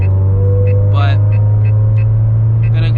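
A Toyota GT86 fitted with a Greddy turbo drives along, its engine giving a loud, steady low drone heard from inside the cabin, with brief rising whines and a few faint higher chirps over it.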